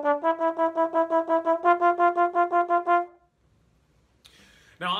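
Trombone runs a major scale in short, evenly tongued notes, about a dozen quick slide-shifted pitches in steady rhythm, close and clear, followed by silence and a brief noise.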